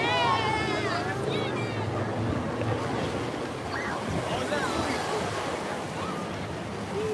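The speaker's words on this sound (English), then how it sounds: "Swells are beautiful today." Ocean swells and surf rolling in at Waikiki Beach, a continuous broad wash of breaking waves with wind buffeting the microphone, while faint voices murmur in the background.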